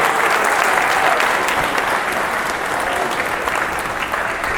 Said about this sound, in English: Give them a round of applause, man.